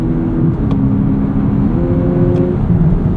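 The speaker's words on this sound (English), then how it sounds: "We've got some piped-in engine noise there, which is really actually hilarious in a car like this." Synthetic engine sound piped into the cabin of a 2025 Lexus UX 300h F Sport hybrid with a CVT, heard as a steady droning hum that shifts pitch as the car accelerates in sport mode.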